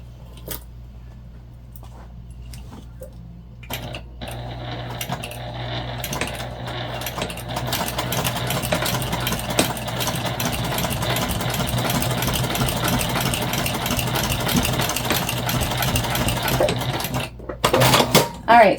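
A sewing machine basting a backpack hums in a steady motorized run lasting over ten seconds, framed by short stops, clicks and handling noises.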